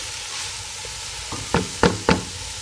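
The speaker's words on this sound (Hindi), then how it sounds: "इसको हम 1 मिनट फ्राई करेंगे।" Chicken fries in hot oil in a home kitchen pan for hot and sour soup: a steady low sizzle runs throughout, with three sharp utensil knocks against the pan near the end.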